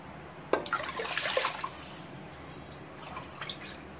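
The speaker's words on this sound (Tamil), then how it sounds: "மூணு கிளாஸ் அளவுக்கு பால் ஊற்ற போறோங்க" Milk is poured into a pressure cooker for rice kheer, a brief splashing pour near the start that trails into faint drips in a quiet kitchen.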